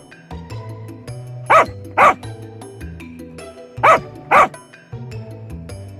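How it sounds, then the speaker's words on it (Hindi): Dogs gathered outside a tree hollow bark in two quick pairs of loud, close yaps, separated by a short pause, over a low background hum. "कुछ कुत्ते उस पेड़ के गुफा के पास आकर भौं भौं भौं करके भौंकना शुरू करते हैं"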